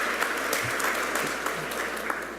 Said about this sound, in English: yeah, please applaud, okay?